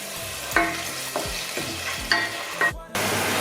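Onions sizzle steadily in a frying pan, broken by several clacks of a utensil as they are stirred.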